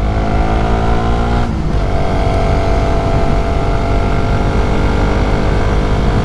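A motorcycle fitted with a replaced 42-tooth rear sprocket in place of the stock 38 climbs uphill, its engine droning loud and close with a steady strained pitch and a brief shift partway through.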